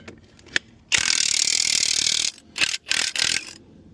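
Socket wrench with a ratcheting tool loosening the lug nuts on a trailer wheel after a tire blowout, a loud, close, sustained whir of over a second followed by several shorter bursts, no talking.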